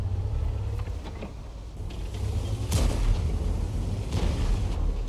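Tank cannon fire at an Object 252 in World of Tanks, sharp booming shots heard over a constant low engine and track rumble, with mechanical creaks between blasts.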